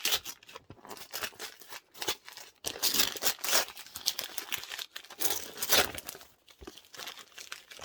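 Paper wrapping is torn and crinkled off a wrapped book, close up, in irregular bursts of rustling, crackling and ripping with short pauses between.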